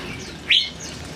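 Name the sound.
white-rumped shama (murai batu) chirping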